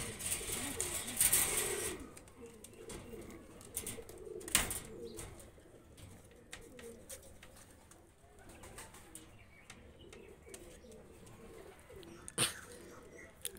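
Two good-quality racing pigeons, a male and a female, coo softly in a loft among faint rustling and shuffling, with a few sharper knocks. The cooing is low and intermittent against low background noise.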